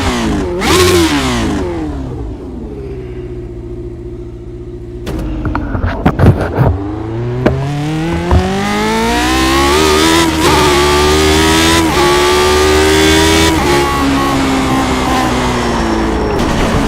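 Car engine in a video game revving hard and shifting through gears, a loud continuous roar that climbs, drops and climbs again with sharp gear changes and tire noise, up close and alone.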